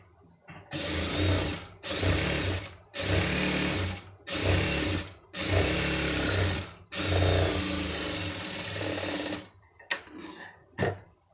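A sewing machine stitches a folded designer sleeve in several bursts of rapid, close mechanical whirring separated by short pauses, ending with a few brief clicks and short runs.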